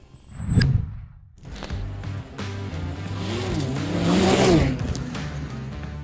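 A 2021 Ski-Doo snowmobile with RAS X front suspension and rMotion X rear suspension roars and revs while riding, engine pitch rising and falling, loud and close after a brief quieter moment.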